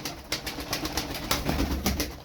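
Competition flying pigeons coo and stir nearby in a run of repeated soft pulses at moderate loudness, with no voices.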